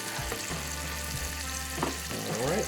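Onions fry in a pot for chicken noodle soup, giving a continuous close sizzle with a few faint stirring knocks and no talking.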